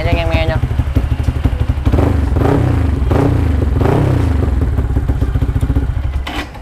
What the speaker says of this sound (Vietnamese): Và đây tiếng máy hiện tại, không, cái máy nó rất là êm.